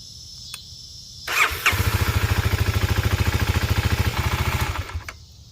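A 2023 Kawasaki KLX300 motorcycle engine cranks and catches after an oil change, then runs at a fast, even single-cylinder idle putter up close before cutting off.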